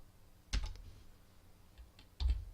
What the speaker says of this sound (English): so I'm going to type the number 2.